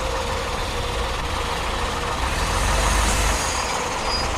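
Vintage bus idling at a September bus show at Duxford, a loud, steady low engine rumble with a diesel clatter, close and continuous, no voices.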